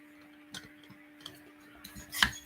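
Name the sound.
wine vacuum pump stopper clicking as air is pumped out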